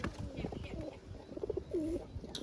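A pigeon perched on a hinge in a rooftop pigeon setup gives a short, soft burst of cooing partway through, faint against low background noise.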